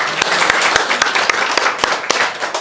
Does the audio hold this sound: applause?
yes